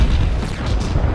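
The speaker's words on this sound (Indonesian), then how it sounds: "saat dinamit tersebut meledak di langit" A single heavy boom of dynamite exploding in the sky, loud and close, with a deep rumbling body that holds for about a second.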